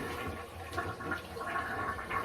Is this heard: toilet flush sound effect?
yes